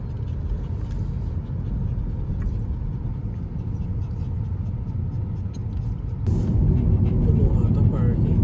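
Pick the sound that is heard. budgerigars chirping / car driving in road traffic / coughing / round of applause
car driving in road traffic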